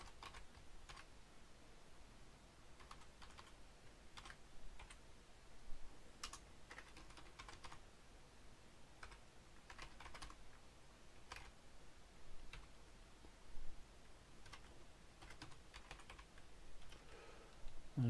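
Code is typed on a computer keyboard in quick, uneven bursts of close, light key clicks with short pauses, fairly quiet and with no talking.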